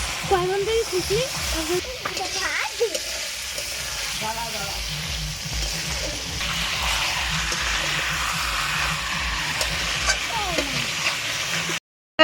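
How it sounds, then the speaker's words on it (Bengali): Chicken curry sizzles and fries in a pan at a picnic, a steady close hiss with stirring scrapes throughout, while people talk over it. "আমাদের এখন চিকেন রান্না হচ্ছে"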